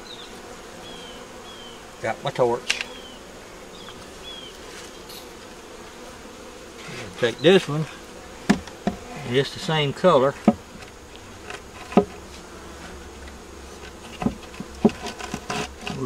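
Honeybees buzz around an opened hive while a beekeeper works, a steady low hum under scattered knocks and rubbing of wooden hive boxes, with someone talking briefly in between.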